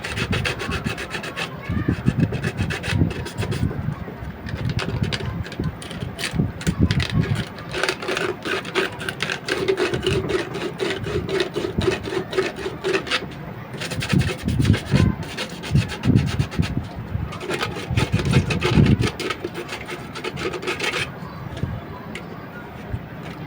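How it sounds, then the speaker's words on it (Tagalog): Sandpaper rubbing back and forth over a pipe or fitting while an oxygen filter is being built, a steady rasping scrape that runs close and continuous throughout, with only brief pauses. "Tapos padaanan po natin ng liha"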